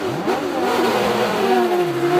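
A loud NASCAR V8 engine in a drift car revving hard at Ebisu Circuit, its pitch climbing and dipping in quick surges, close and continuous.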